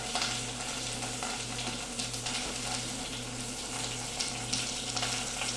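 Onions sauté in a pan for a Malayalam-style fish curry, giving a steady close hiss and crackle of frying that runs unbroken for several seconds.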